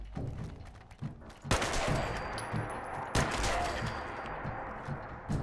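Gunfire at ghouls in Fallout 4 gives several close, heavy shots, two especially loud blasts among lighter pops, over a rumbling game background.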